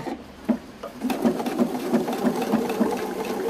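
A sewing machine sews a tiny back stitch on a star quilt piece, a near, steady mechanical hum with an even, rapid needle tapping running throughout.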